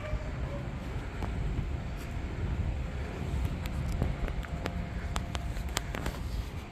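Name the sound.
strong wind blowing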